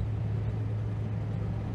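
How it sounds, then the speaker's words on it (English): A 1975 Citroën CX2200 Pallas engine drones at about 3,000 rpm while the car is driven, a steady, low, fairly loud hum from inside the cabin with no speech over it. "It's not a quiet car. There's quite a lot of engine noise."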